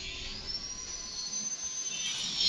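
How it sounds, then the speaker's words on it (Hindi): A drill machine whines steadily in the background, a thin high-pitched drone holding for a couple of seconds and swelling slightly louder at the end. "अरे यार ये क्या है, ये ड्रिल मशीन चलाए जा रहे चलाए जा रहे।"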